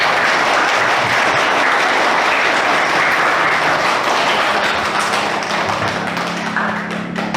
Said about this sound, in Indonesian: Oke, aplaus untuk semuanya